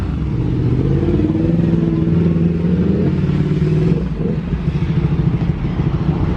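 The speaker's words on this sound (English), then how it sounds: "That was a few motorbikes coming in case you were wondering." Several motorbikes pass by on the road at a classic British lorry show, their engines rumbling and revving steadily and loud for several seconds, then fading slightly as they move on.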